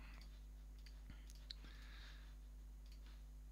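Calculator keypad buttons are pressed in a few faint, sparse taps and ticks against a very quiet background.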